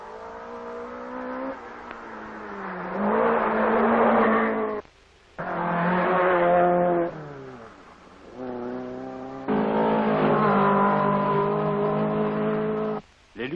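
Alpine rally car at the 1975 Monte-Carlo Rally, a privately entered car driven by Jacques Henry, its engine droning and revving loudly through changing gears, with brief drops between passes.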